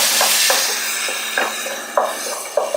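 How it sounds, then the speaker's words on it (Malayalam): Potatoes being stirred into an onion-tomato curry masala in a pan, with a steady sizzle and repeated scraping strokes of a spoon against the pan, several distinct scrapes in an uneven rhythm, close and fairly loud with no voices. "ഉരുളക്കിഴങ്ങ് മിക്സ് ചെയ്യാം."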